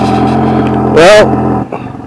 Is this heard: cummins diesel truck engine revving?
yes